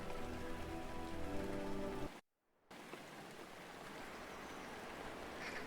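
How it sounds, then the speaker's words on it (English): Steady rainfall in the mystery game Rainswept hisses continuously at a soft, even level, briefly cutting out to silence before resuming as a dense, close patter. "It's raining again."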